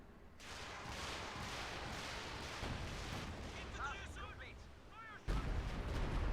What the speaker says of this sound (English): now the Stuka Zufus getting ready to fire